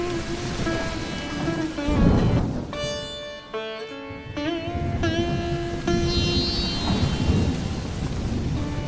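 Heavy rain pours down on a dark lane at night with thunder rolling through it, a loud, steady downpour broken by deeper rumbles, with tonal sounds layered over the storm.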